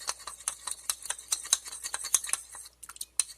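A whisk clicking briskly against a bowl while mixing a cornstarch mixture for a chicken pot pie filling: rapid, regular metallic taps and scrapes, close and crisp, easing off near the end.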